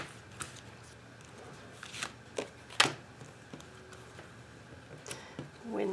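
Soft, irregular riffling and slapping of oracle cards being shuffled by hand, close and quiet, with a few sharper snaps among the light patter and no talk.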